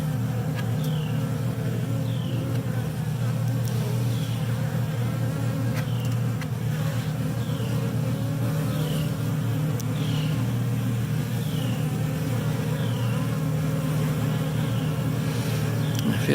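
Honeybees hum in a dense, continuous buzz around a Flow Hive box, with a steady low drone and occasional single bees zipping past close by, no voices.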